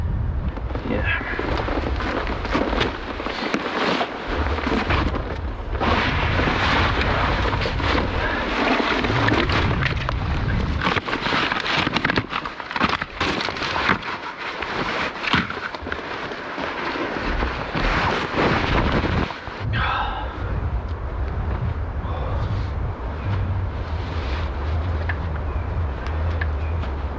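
Wind rolling in hard over the top of an ancient boulder at a bushcraft bivi camp, a loud, continuous roaring buffet on the microphone that barely lets up, with no one speaking.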